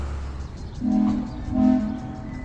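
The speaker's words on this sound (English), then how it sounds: "That deep whistle you just heard suggested number 493, a K37 type" A deep steam locomotive whistle from K37 type number 493 on the Durango & Silverton Railroad sounds in two drawn-out blasts, fairly loud and somewhat distant, over a low rumbling background.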